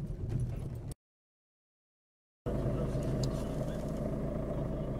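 A Mercedes C200 drives over speed bumps with a steady low rumble and road noise, broken by a second or so of dead silence before the driving sound resumes.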